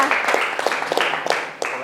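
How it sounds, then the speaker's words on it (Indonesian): Students in a vocational high school fisheries class clap for a group after its presentation, an uneven patter of hands with a few sharper claps standing out, and voices murmuring underneath. "tepuk tangan dulu untuk kelompok 4 telah mempresentasikan"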